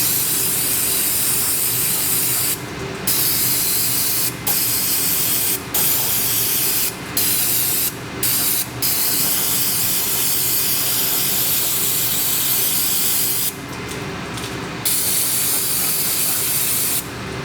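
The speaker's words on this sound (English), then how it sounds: "Let's spray it one more time." An aerosol spray can blasts cleaner into a three-to-four-year-old angle grinder during regreasing, a loud harsh hiss in long bursts broken by several short pauses.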